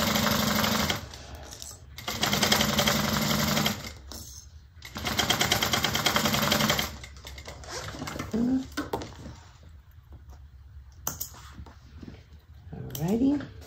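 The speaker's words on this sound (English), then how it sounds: "Okay, so I'm sewing this." Sewing machine stitching a bag, running in several loud close bursts of rapid stitching separated by pauses, with someone talking briefly between runs.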